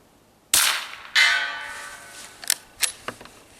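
Two suppressed 9mm subsonic rounds of 158 grain fired from a bolt-action rifle, each a sharp close crack with a short ringing tail, followed by a few lighter clicks and clacks from working the bolt.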